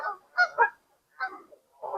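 Geese honking at a reservoir, several loud nasal honks in quick irregular bursts with short gaps, close by and alone without talk.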